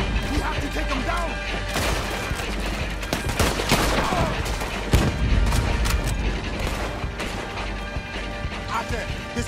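Dense bursts of rapid gunfire in Red Dead Redemption 2 crackle continuously alongside clanking mechanical noises, loud and chaotic, with occasional voices mixed in.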